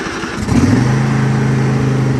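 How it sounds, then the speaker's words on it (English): A John Deere tractor engine cold starts, cranking briefly before catching and settling into a loud, steady idle close by. "Cold start."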